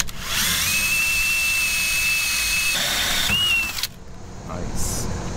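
An Irwin step drill bores through metal on a Jeep TJ suspension build, a loud, steady close whine with a high tonal squeal that holds for about three seconds, then cuts off abruptly, leaving quieter workshop noise.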